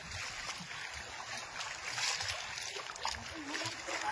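Legs wading through water deeper than the knees during an outdoor fish harvest from a net, with repeated close sloshing splashes and swirls under a steady wash of outdoor noise while voices talk nearby.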